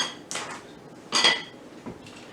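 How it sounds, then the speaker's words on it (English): A wire whisk works through banana pudding mixture in a bowl, giving a few separate metallic clinks and scrapes against the side, close and fairly quiet, with pauses between strokes and no talking. "I'm just going to use my whisk and whisk it."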